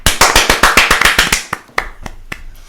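Rapid hand clapping, about a dozen quick crisp claps in steady rhythm, then slowing to a few scattered claps, close and loud, imitating a football coach's fast clap.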